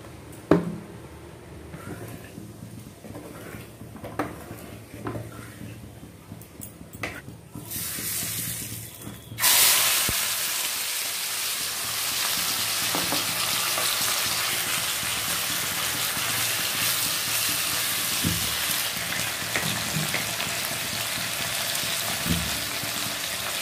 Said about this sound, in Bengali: মাটিগোড়ারে মু নেইগলি কিছু সোরিষ তেল তারপরে সেটি অল্প টিকে লুণ পকাইলি তারপরে চিংড়ি মাছ গুড়া ভালো ভাবে সেটি ফ্রাই করে নেবি